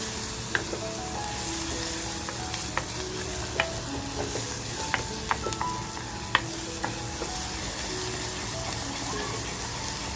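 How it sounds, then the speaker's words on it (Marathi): Masala with turmeric frying steadily in a pan, a dense continuous sizzle with occasional light clinks of a spoon stirring through it. No talk is heard. "जितका आपण मसाला आपला व्यवस्थित फ्राय होतो ना तितकी ती रेसिपी सुंदर लागते"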